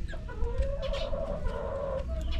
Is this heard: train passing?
no